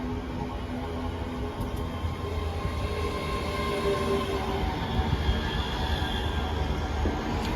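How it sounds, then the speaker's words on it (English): ScotRail train pulling out of Edinburgh Haymarket station, a steady low rumble of wheels and traction with faint squeals, heard from the platform at moderate distance with no talk. "departing out at the same time is the 15:49 ScotRail service from Edinburgh Waverley to Glasgow Queen Street"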